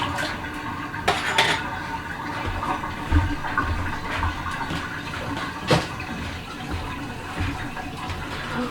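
A kitchen dishwasher starts its run with water rushing and sloshing, mixed with clinks of dishes and cutlery, a steady busy wash punctuated by a few sharper knocks.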